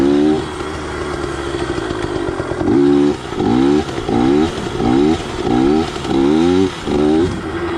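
A Yamaha PW80 two-stroke dirt bike with an FMF exhaust and Boyesen reeds revs up close in a series of sharp, rising throttle blips, each dropping back to a buzzy idle between pulls.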